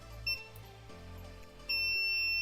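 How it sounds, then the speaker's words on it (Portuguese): A multimeter on continuity test gives two piercing electronic beeps while probing a capacitor on an inverter circuit board: a brief chirp, then a longer sustained tone, over a faint hum. "Então o capacitor bipou dos dois lados"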